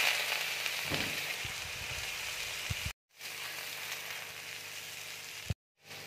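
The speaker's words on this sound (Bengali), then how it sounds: "এবার আমি পেঁয়াজটা দিয়ে দিচ্ছি" Onion dropped into hot oil already tempered with dried red chillies and nigella seeds, giving a steady close hiss of frying with a few soft stirring knocks near the start, cut by two brief breaks.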